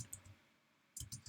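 A few quick mouse clicks on a computer, soft and close, two small bursts separated by a brief silence.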